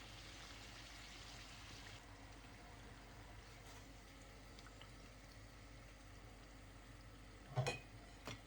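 Chebureki dough frying in hot oil gives a faint, steady sizzle and crackle throughout, with a brief louder clatter near the end.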